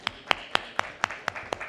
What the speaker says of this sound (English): Ladies and gentlemen, welcome him again with a round of applause